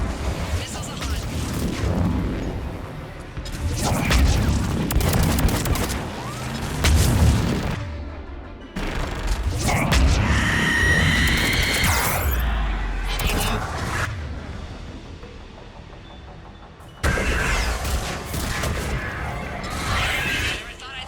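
Missile explosions and gunfire in Mass Effect 3 on Thessia: heavy booming blasts and rumbling impacts come in several loud waves separated by short lulls, with voices talking at times.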